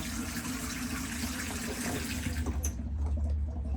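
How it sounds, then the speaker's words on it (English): A hot water tap in a Bessecarr E625 motorhome shower runs, a soft steady splash and hiss of flowing water, close and fairly quiet, with a few small clicks toward the end. "turning that pulls the hot water through"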